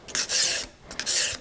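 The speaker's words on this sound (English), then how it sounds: "Then from there, again, I would move into my sanding sticks." Pliers in a studio are worked over by hand with sanding sticks, giving two close, loud rasping strokes with a short pause between them.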